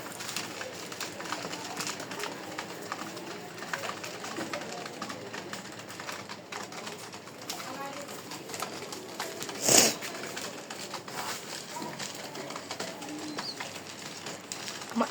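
Pigeons feed close by in a quiet space, giving faint, rapid pecking taps and soft shuffling with a light coo, plus one sharp knock partway through.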